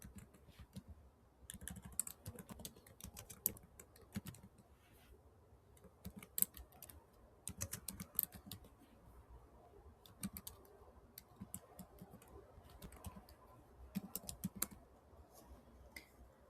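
Someone types on a computer keyboard, entering names into a form in quiet bursts of rapid clicking separated by short pauses.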